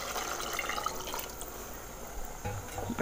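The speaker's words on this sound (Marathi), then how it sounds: "म्हणून मग मी 3 वाट्या पाणी टाकते." Water is poured into a cooking pot holding one and a half cups of rice for masoor chicken biryani. The pouring is a faint, quiet trickle and splash, with a few louder knocks near the end.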